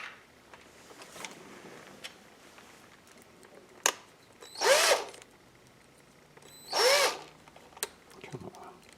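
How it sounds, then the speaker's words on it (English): A power drill whirs in two short, loud bursts a couple of seconds apart, set among scattered clicks and knocks of workshop handling during a craft project. "Oh, there's my drill."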